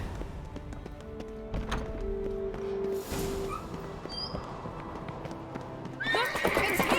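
Horse neighs and whinnies over clip-clopping hooves in The Witcher 3 video game, with several bright calls rising above a steady backdrop of game ambience and a burst of louder activity near the end.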